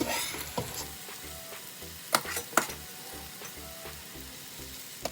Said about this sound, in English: Once you've added the mung beans, give them a good stir